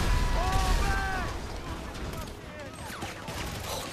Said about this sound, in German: Aus allen Ecken und Kanten wird gerade eben rausgeschossen